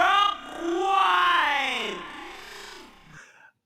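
A vocal sample stretched in Koala Sampler with a retro late-90s time-stretch mode carries warbling, grainy artifacts as its pitch slides through a drawn-out phrase, moderately loud, before cutting off abruptly.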